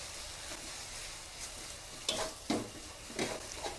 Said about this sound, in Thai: ผัดคลุกเคล้าค่ะ ให้ชะอมสุก